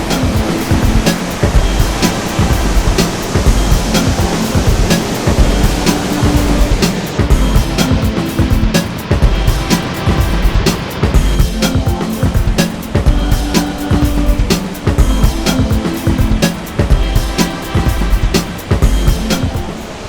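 Waterfall at the Devils Cauldron in Tasmania roaring down a chute into a canyon, a loud, dense, continuous rush of water heard from near the bottom, with no talk.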